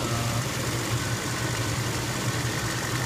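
A carbureted Oldsmobile 307 V8 idles in a 1990 Cadillac Brougham, a steady low rumble with a faint pulsing throb, close by and alone with no talk.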